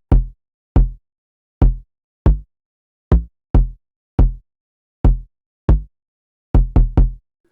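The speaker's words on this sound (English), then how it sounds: "Then I layered this 808 with the kicks." Beat of an 808 bass layered with kick drums, with punchy, booming hits in a steady rhythmic pattern and a quick triple hit near the end, loud and alone.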